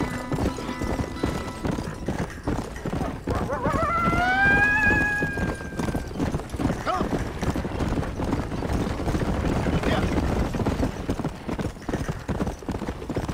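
Horse hooves clip-clopping in Red Dead Redemption, a steady trotting rhythm with a neigh rising in the middle, over ambient game sound and no talk.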